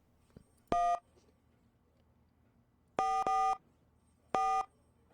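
Telephone keypad tones from a phone in The X-Files Game, with three separate groups of loud electronic dialing beeps: one short press, then two quick presses back to back, then one more, each ringing out clearly over near silence.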